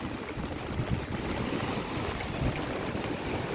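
Steady broadband rumble of a boat moving on water, with wind buffeting the microphone and a constant wash of waves throughout.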